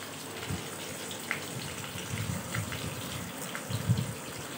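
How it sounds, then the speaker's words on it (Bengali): Water is poured into a bowl of ground spices including turmeric, Kashmiri chili and cumin, giving a soft close splashing gush in short uneven bursts. "এবার আমি এর মধ্যে জল দিয়ে কিছুক্ষণ মশলাটা রেখে দেব।"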